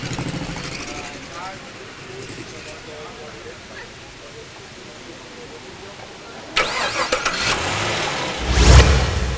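A car at an American car meet is started remotely with its key fob, with a quiet idle-like background and people talking, then the engine catches with a sudden loud burst and a louder rev near the end.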